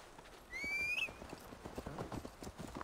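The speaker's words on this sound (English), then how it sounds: "Oh, I almost got on the wrong horse." In the video game Assassin's Creed Valhalla, a horse's hooves clip-clop in a quick, even rhythm close by, with a short whinny near the start.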